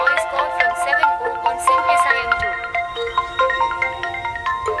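A mobile phone rings for an incoming voice call in a home setting, a melodic electronic ringtone of repeating tonal notes playing steadily and fairly loud, with no speech over it.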